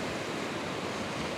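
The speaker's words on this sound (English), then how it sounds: "Oh, what a beautiful ocean." Ocean waves and surf as a steady, soft broadband wash, fairly faint and continuous, with no voices over it.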